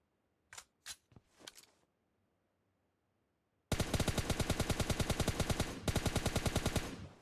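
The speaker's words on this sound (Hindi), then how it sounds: "फिर दो बोटों की हमें सामने से फायरिंग आती है" Gunfire from enemy bots in a first-person shooter, starting with a few separate sharp shots, then a few seconds of quiet, then a long loud rapid automatic burst with a brief break near the end.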